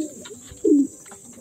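A racing pigeon in a loft gives one short, low coo at close range over a quiet background with faint chirps.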